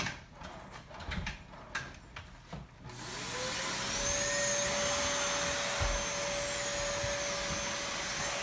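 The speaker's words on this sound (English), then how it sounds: "Excuse me, vacuum." A vacuum cleaner switches on partway through after a few soft knocks and shuffles, then runs as a loud, steady whine with a rising motor pitch that holds to the end.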